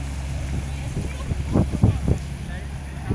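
A boat engine hums low and steady with wind noise while cruising a city canal in Leeuwarden, the Netherlands, while voices talk briefly over it.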